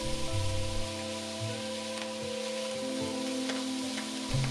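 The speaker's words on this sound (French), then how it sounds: "on déglace la poêle avec le vin blanc sec" A frying pan is deglazed with dry white wine during preparation of peppered beef, giving a soft continuous sizzle under a steady hum, with a few faint clicks and ticks.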